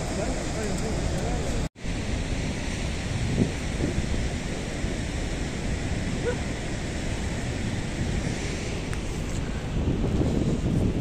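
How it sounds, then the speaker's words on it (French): Ocean waves at Capbreton beach on the French Atlantic coast wash in as a steady, loud broadband roar with wind buffeting the microphone, continuous throughout with one brief dropout. "Il y a des vagues des fois sûrement plus hautes."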